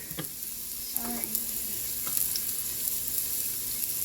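Shallots, garlic and ginger sautéing in a pan for a spicy corn and coconut soup, a steady bright sizzle close by with a few light utensil clinks near the start.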